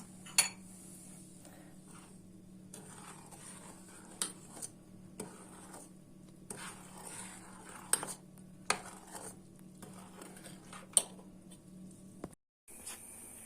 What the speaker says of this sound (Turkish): Şöyle güzelce bunu bir karıştıralım.